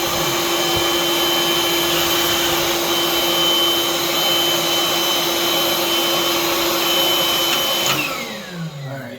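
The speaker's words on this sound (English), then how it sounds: "I'm going to turn that one screw and tilt that down while he's vacuuming" Vacuum cleaner running loud and close with a steady high whine while a bathroom exhaust fan is cleaned, its pitch dropping as it winds down near the end, with no talking.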